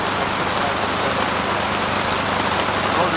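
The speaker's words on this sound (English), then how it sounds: "It's raining really hard right now." Heavy rain pouring down steadily, a dense continuous hiss of drops striking surfaces close by, loud and unbroken with no voices.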